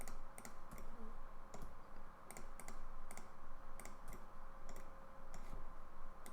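Computer keyboard keys and mouse clicks during 3D modelling work in Blender, quiet close clicks and taps arriving in irregular small clusters against a faint steady hum.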